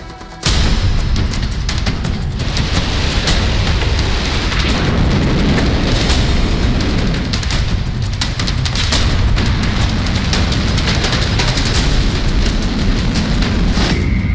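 A ballistic missile test blast roars as a sustained, loud, crackling explosion that bursts in abruptly and rumbles on for many seconds without fading, heavy with deep booming and hiss, with no voices.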